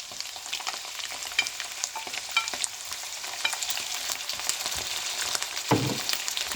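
Tomatoes frying with minced meat, garlic and ginger for karahi keema, a continuous close sizzle with crackles and the scrape of stirring, ending in a brief louder clatter.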